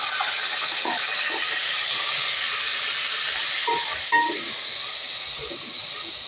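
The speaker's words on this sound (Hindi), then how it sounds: "अब मैं इसमें प्याज शामिल करूँगी उसको फ्राई करूँगी" Onions fry in a pan for achar gosht with a constant, even hiss of hot oil, broken by a few faint clinks and scrapes of stirring.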